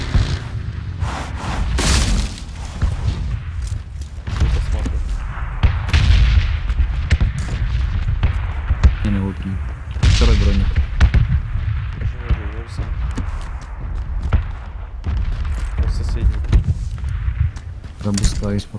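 Explosions in PUBG, repeated heavy booms and blasts at irregular intervals, some sharp and close, others duller, over a rumbling background with voices talking intermittently.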